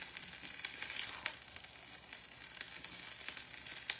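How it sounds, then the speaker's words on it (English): Beef and cauliflower rice sizzle and crackle steadily in a hot frying pan, close and moderately quiet, with occasional sharper pops and stirring scrapes. "I hear it sizzling in the"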